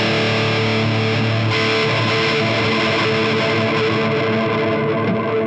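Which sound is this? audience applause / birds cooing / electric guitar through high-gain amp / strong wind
electric guitar through high-gain amp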